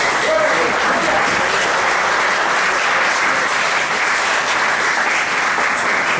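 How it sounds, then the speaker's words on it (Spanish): A church congregation bursts into loud, sustained applause, a dense wash of many hands clapping steadily with no break, close and full, while a voice talks faintly beneath it. "¿Cuántos pueden dar un aplauso fuerte a eso?"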